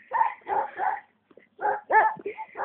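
Several dogs bark and yip in a forest, two bursts of rapid barking with whimpering tones separated by a brief pause, close and loud.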